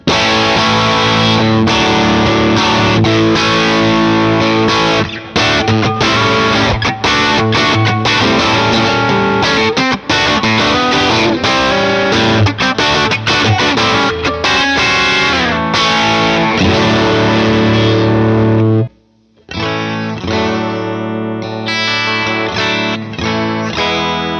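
Electric guitar driven through a Sleep Champion Horse Cult distortion pedal, playing loud, thick saturated chords and riffs continuously, with a brief near-silent break before the playing resumes.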